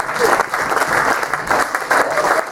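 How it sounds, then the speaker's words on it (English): A comedy club audience applauds loudly and steadily after an adult stand-up set, a dense wash of clapping with some crowd voices mixed in. "Give a round of applause."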